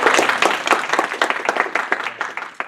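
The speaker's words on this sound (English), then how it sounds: "give her a round of applause." A small group at a game development club meeting claps for a member, individual claps clearly separate and uneven, fairly close, fading somewhat toward the end.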